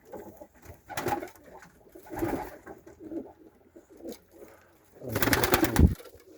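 Pigeons coo inside a loft, with soft, repeated throaty calls in separate bursts and a louder, fuller cluster of cooing near the end, heard close and clear.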